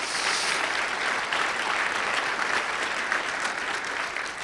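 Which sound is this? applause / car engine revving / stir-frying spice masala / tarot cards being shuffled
applause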